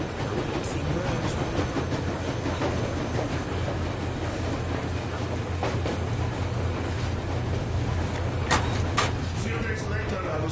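A train rumbles along steadily in Metro Exodus, a continuous low rolling drone with faint metallic clanks, while voices murmur softly beneath it.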